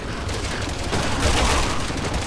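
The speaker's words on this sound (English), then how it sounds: "stop shooting at us." Dense, sustained gunfire in the co-op video game Resident Evil 6, a loud continuous barrage of overlapping shots and clatter filling the whole moment.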